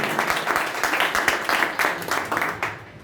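A church congregation claps loudly together in a dense, steady burst of applause for a few seconds before it tapers off.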